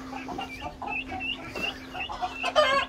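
Chickens clucking in a coop, a run of short, near, repeated clucks and murmurs from several birds, rising to a louder burst of calls at the end over a steady low hum.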